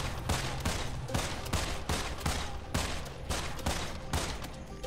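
Rapid gunfire from the video game Immortal Redneck, set in ancient Egypt: a steady run of loud, close shots repeating roughly every half second, each a sharp broadband crack with a short ringing tail.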